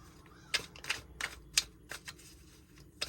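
Several crisp, papery tarot card shuffles come in quick bursts, snapping and riffling at close range, separated by short pauses, with no talking.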